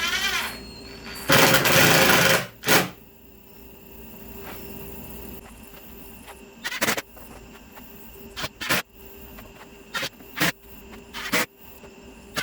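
Screws are driven in with a power driver during a car audio enclosure build in a Tahoe, one long whirring burst followed by several short, sharp spurts spaced apart, close and fairly loud.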